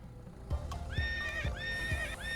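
A horse-sound car horn in a racing video game gives three loud whinnying neighs in a row, each rising and falling, with soft clip-clop thuds underneath.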